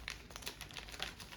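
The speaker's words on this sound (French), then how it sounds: "Je vais les déballer, ça va être beaucoup mieux." Plastic packaging crinkling and crumpling as a plastic car wheel cover is unwrapped, soft rustles with a few sharper crackles, close and fairly quiet with no talk.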